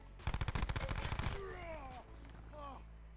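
Switchblade X9 SMG from Black Ops 4 fires a rapid, loud burst of about a dozen close shots lasting roughly a second, then falls silent as game effects and faint voices follow.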